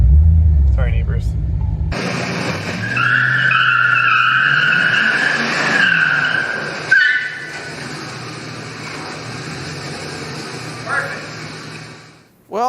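A high-mileage Chevy Silverado with a G80 locker slides sideways on half an inch of snow, its engine roaring loud and close as tires spin and skid continuously, with a brief voice near the start.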